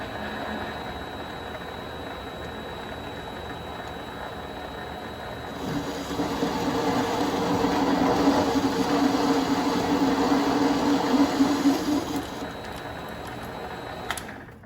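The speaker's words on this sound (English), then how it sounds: "We're gonna chamfer this edge, it's very sharp." A Vevor MX 400 mini lathe chamfers a sharp edge on reclaimed stock: a steady motor whine swells into a louder grinding cut for several seconds, then eases back, with no talk.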